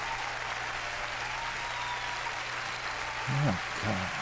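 A concert audience applauds a singer with steady, distant clapping that spreads evenly throughout, while a voice speaks briefly near the end over the crowd.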